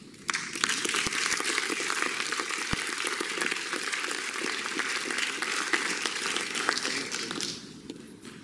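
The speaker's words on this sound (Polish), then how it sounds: "Duże brawa, proszę Państwa," Audience applause at an award ceremony during a nongovernmental initiatives forum in Lublin; a hall full of people clapping steadily and fairly loudly for about eight seconds before it fades out.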